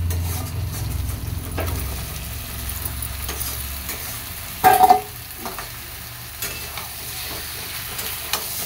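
Vegetable stems dropped into a frying pan for a Bengali chorchori with prawns and Malabar spinach, giving a low sizzle and scraping stirs, with one sharp clatter midway and scattered utensil knocks.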